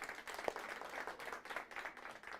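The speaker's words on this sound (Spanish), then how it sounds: "démosles también un aplauso a su personal escolar" Parents at a school meeting applaud the school staff, a fairly quiet, steady patter of many hands clapping from a small crowd, heard from a distance with no speech.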